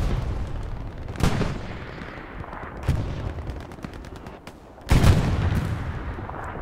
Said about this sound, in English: Great artillery from Cerberus HTD.